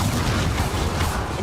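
A dense, roaring burst of fire from the Incendio spell cast in Hogwarts Legacy, steady and loud throughout with no talk over it.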